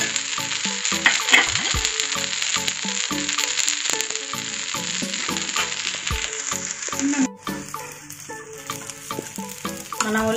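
Oil hisses and crackles on a hot pan while a sprouts dosa cooks, a close, continuous sizzle with small pops and scraping stirs that softens near the end.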